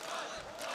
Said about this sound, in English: You can hear the crowd in the background as well.